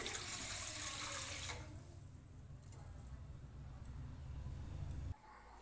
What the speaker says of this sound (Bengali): এবার ওভেনে একটা পাত্র বসিয়ে দিয়েছি, এতে দিচ্ছি অল্প একটু জল